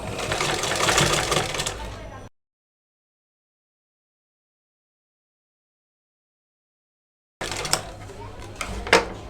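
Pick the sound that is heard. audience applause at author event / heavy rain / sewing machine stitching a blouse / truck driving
sewing machine stitching a blouse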